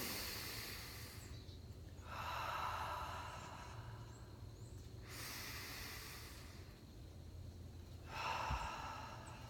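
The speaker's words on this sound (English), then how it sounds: "we are going to take our deep breath" Two slow, deep breaths taken outdoors on a cold front porch, each a soft, airy inhale and exhale. They are faint and close, with quiet outdoor hiss between them and no talking.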